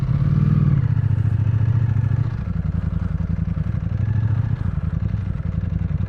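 A Ducati Panigale V4S with its factory exhaust rumbles at low speed during slow maneuvering, a steady, loud, close engine drone with a brief stronger surge near the start, no voices over it.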